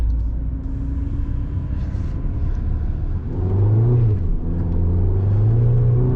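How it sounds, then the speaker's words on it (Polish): A Mini Cooper S Roadster pulls away and accelerates, its engine note rising in pitch close by, starting gently and then building with a smooth climbing whir. "zaraz sobie tutaj delikatnie ten samochodzik rozpędzimy"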